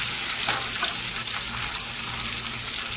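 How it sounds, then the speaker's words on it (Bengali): Onions frying in a pan with dried black lemon for an Arabic madghut, a dense, continuous close-up sizzle with faint occasional stirring scrapes. "সাথে আমরা শুকনো কালো লেবু এটা দিয়ে দেবো। পেঁয়াজের সাথে ভালো করে ফ্রাই করে নেব।"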